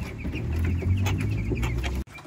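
Eight-day-old broiler chicks in a brooding box pen cheep and cluck continuously at close range, a busy overlapping chatter of small birds.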